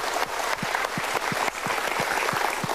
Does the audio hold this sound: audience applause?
yes